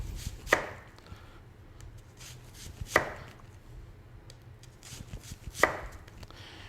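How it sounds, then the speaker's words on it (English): A knife slices a large onion into thin slices on a cutting board, three sharp, close chopping knocks spaced a few seconds apart with a quiet background between them. "So I'm just gonna slice this onion."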